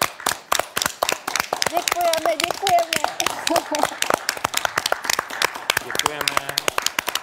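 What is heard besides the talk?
people clapping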